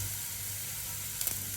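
Crushed spice paste for a spinach thoran sizzling in a hot pan, a soft steady hiss with a brief stir-like clatter near the end.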